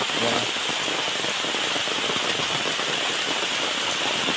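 Typhoon rain falls steadily and heavily on Burias Island, a dense continuous hiss of rain on surfaces without a break, loud and close.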